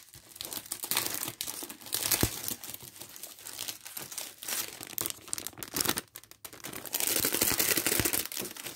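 Continuous crinkling and rustling of paper, with sharp crackles and brief pauses, close to the microphone and fairly loud throughout.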